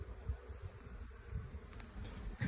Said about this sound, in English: These are very placid bees, I must say.